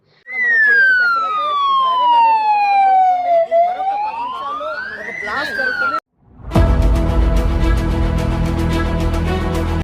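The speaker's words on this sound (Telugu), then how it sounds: "ఒక్కసారిగా సైరన్ మోతలు, బాంబు పేలుళ్ల చప్పుల మధ్య పోలీసుల హెచ్చరికలు." A loud wailing siren sweeps down and up in pitch for six seconds, then cuts to a dense, clattering blare of emergency noise during a police mock drill.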